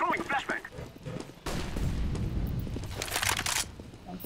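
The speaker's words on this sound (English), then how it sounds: "I'm throwing a flashbang." Flashbang grenade going off in the video game CS:GO, a sudden loud burst with a bright ringing hiss that holds for a few seconds, following brief gameplay sounds.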